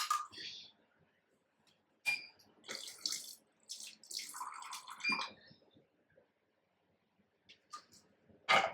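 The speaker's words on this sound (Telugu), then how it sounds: "కొన్ని వాటర్ పట్టుకొని అలా ఇట్లా పోస్తా." Water poured from a container into a pot of brinjal curry with tomato paste and tamarind juice, several short splashing pours separated by quiet gaps, close and fairly faint.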